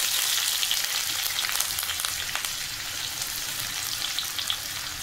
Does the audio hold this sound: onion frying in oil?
yes